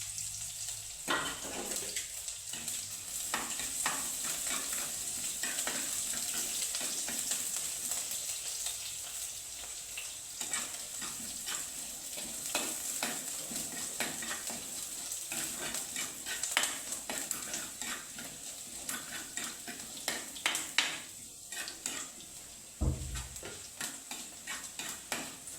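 Sliced onions and dried red chillies frying in oil in a pan, a constant soft sizzle broken by repeated scraping stirs of a spoon and occasional clinks against the pan.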